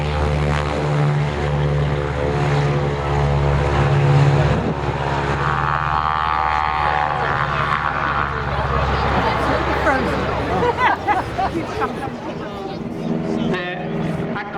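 Propeller aircraft performing an aerobatic formation loop at the Shoreham airshow, a loud droning engine roar that swells and shifts in pitch as the planes pass, with a commentator talking over the PA.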